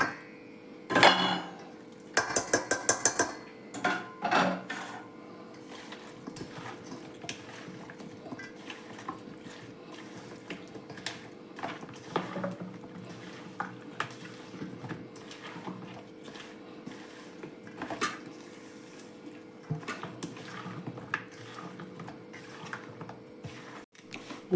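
Cauliflower pieces for cauliflower 65 tossed and stirred in a bowl: bursts of close clattering and scraping against the bowl, strongest early, then softer intermittent clinks and rustles.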